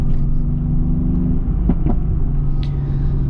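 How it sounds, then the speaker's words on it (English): Mercedes-AMG GT S, 515 hp, doing a full-throttle launch: a loud, steady deep engine roar heard from inside the car, continuous and close with a few brief sharper bursts. "Pull both paddles, right to confirm, mash the throttle, and let loose"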